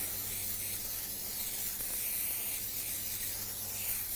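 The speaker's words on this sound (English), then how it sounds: "Olive oil for you. Give it a little spray." Olive oil sprayed from a can onto a non-stick pan, a steady continuous hiss lasting several seconds, close and fairly loud with no talking.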